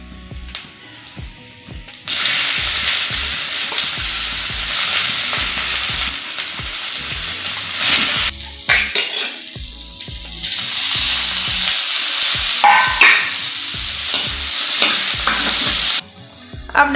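Cumin seeds hit hot oil in a kadai and burst into a loud, steady sizzle with occasional stirring scrapes, running almost continuously from the first couple of seconds to near the end.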